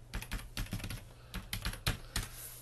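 Fingers typing on a computer keyboard, a quiet, close patter of uneven keystroke clicks in short bursts with brief pauses between, alone without voices.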